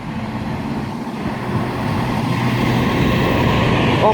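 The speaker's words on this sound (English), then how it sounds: "And that Virgin Pendolino is actually off to, let me think, Glasgow Central." A Virgin Pendolino express train passes on a main line at Tamworth, a steady broad rushing roar that swells and grows louder through the clip, with no voices.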